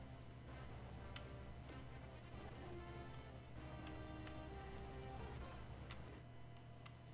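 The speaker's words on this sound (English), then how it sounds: "Oh dear, now it's raining." Rain falls in the Legend of Zelda Minish Cap video game as a soft, steady patter with scattered ticking drops over a low, constant background, quiet and unbroken throughout.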